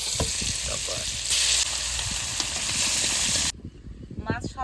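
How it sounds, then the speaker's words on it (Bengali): Fish frying in hot oil gives a loud, continuous sizzle and crackle for about three and a half seconds, then cuts off abruptly, leaving quieter kitchen sounds and faint voices. "এর মাছ ভাজা তেলের মধ্যে আর একটু তেল দিয়ে দেবো"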